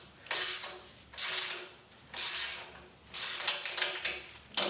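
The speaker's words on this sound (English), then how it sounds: "The ratcheting now." A ratchet wrench works on a YZ 250 woods/enduro dirt bike during assembly, giving four bursts of bright clicking ratchet strokes in a steady rhythm, close and fairly loud, with brief pauses between them and no talking.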